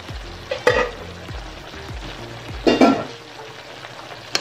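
Shredded cabbage sautéing in a pan for ginisang repolyo, with a steady low sizzle broken by two louder bursts of stirring and scraping, close and with no one talking.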